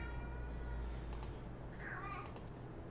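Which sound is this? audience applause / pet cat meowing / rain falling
pet cat meowing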